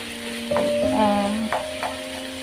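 Ground meat frying in a pan gives a continuous close sizzle with steady hissing and a few scraping stirs, joined by a faint tonal hum underneath.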